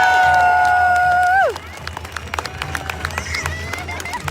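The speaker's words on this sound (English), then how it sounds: "On l'applaudit très fort, merci beaucoup!" A crowd at an outdoor freedom rally in Ottawa breaks into loud applause and cheering right after a sustained tone ends, the clapping and hubbub continuing steadily to the end.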